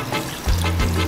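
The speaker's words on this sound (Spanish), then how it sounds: "Le pones el caldazo." Broth poured into a pot of chicken with potatoes, a short, close splash and gurgle of liquid that starts abruptly about halfway in and continues steadily.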